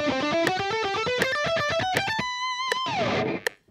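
Guitar runs quickly through rapid picked notes, six notes to each click of a metronome set at 80, in an even ascending line. A sustained bent note follows, then a brief trailing strum, with no talking.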